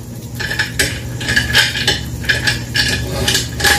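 Metal clattering and clinking of a lid being set over a cooking pot of fish tinola, loud and close, with several rattling knocks in quick succession.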